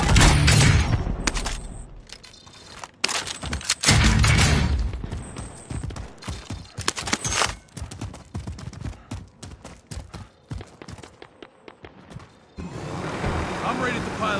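Assault rifle fire in a multiplayer video game, heard as loud irregular bursts of sharp cracks with quieter gaps in between, mixed with other game sounds.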